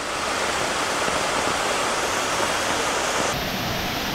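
A waterfall swollen by rainy-season flow in Bilaichari, at one of the smaller falls rather than the main one, pours in a steady, loud, close rush of white water that continues unbroken throughout.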